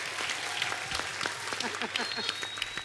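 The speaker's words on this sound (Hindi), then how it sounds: "जोरदार तालियां हो जाएं उनकी मिसेज के लिए भी" A studio audience at a comedy talk show applauds for a guest's wife, a dense, steady patter of many hands that stays at an even level throughout.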